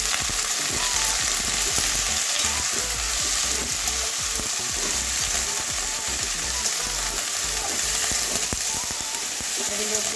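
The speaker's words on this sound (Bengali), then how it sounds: "এবারে ধুয়ে রাখা আলু কুমড়ো বেগুন দিয়ে দিচ্ছি" Potato, pumpkin and eggplant fry in hot oil with onion and garlic, giving a dense, continuous sizzle with crackling pops and occasional stirring close up.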